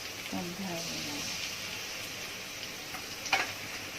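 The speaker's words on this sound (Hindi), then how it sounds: "फिर उसको हम थोड़ा सा भूनेंगे। प्याज थोड़ा सा ब्राउन हो जाए" Onion paste for a duck curry frying in a pan makes a soft, steady sizzle throughout, with a brief clink near the end. A voice is heard faintly at the start.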